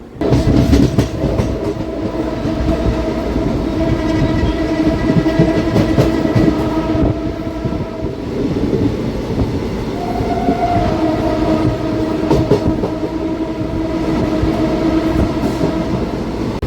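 A DEMU commuter train running between Secunderabad and Siddipet near Malkajgiri, with a steady loud rumble and wheel clatter throughout and faint whining tones, no voices.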